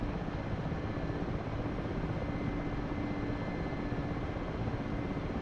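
Steady, continuous aircraft engine drone from a plane taxiing in a combat video game, a dense low rumble holding at an even level throughout with no voices.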